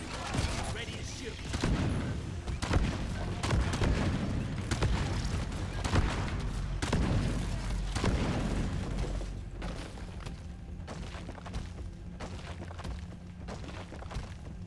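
Gunfire and explosions from a co-op dwarf mining shooter game, a dense run of shots and booms that continues steadily, with a voice talking over the combat.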